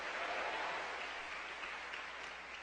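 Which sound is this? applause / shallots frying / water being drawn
applause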